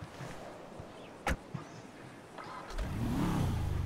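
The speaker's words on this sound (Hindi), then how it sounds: "गाड़ी देखते हैं भाई, देखते हैं कैसी है गाड़ी चलते हैं।" A car engine in the GTA video game revving up and accelerating toward the end, a rising engine note after quieter game ambience with a couple of sharp clicks, fairly faint overall.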